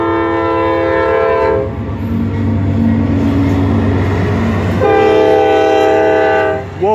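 A CSX mixed freight train with a special CSX engine leading rumbles past close by, its loud horn blaring at the start and again near the end over the rolling clatter of wheels.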